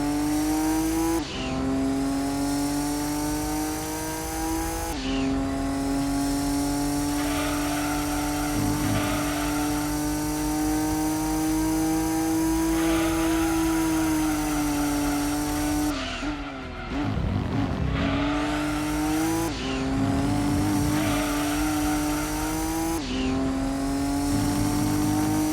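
Race car engines whine continuously in the PS1 game Gran Turismo 2 during an endurance race on the Rome City Course, with loud sustained revving, rising pitch through the gears, abrupt shift drops and brief tire squeals.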